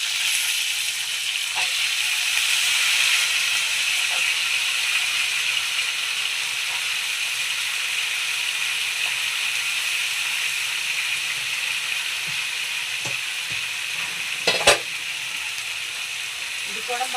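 Potatoes fry in hot oil with curry leaves, giving off a loud, steady sizzle that hisses continuously, with a single utensil clack near the end.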